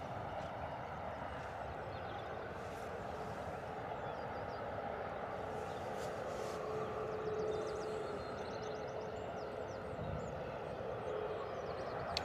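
A distant EasyJet airliner taxis at Bristol Airport on a windy crosswind day, a steady broad jet rumble and whine holding throughout, fairly even in level with no voices over it.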